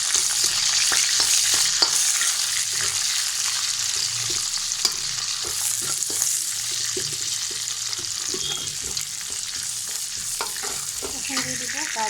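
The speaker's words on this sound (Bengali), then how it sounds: "ফ্রাই করা তেলের মধ্যেই আমি এখন দিয়ে দেব পেঁয়াজ কুচি, কাঁচামরিচ কুচি" Chopped onion and green chili fry in hot oil left from frying beef, a dense continuous sizzle broken by frequent stirring clicks and scrapes, close and steady throughout with no talking.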